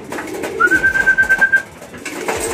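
Pigeons coo in a soft, rhythmic burble nearby, with a thin whistle-like tone over it and faint background noise.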